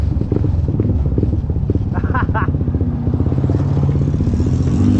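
A 300cc motorcycle engine at a Philippine car meet runs close by with a loud, throbbing rumble, its pitch rising and falling slightly as it revs.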